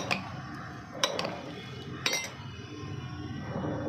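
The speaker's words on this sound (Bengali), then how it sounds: "চামচ দিয়ে নাড়াবো" A spoon stirring in a bowl, with a few bright clinks at roughly one-second intervals against a soft background.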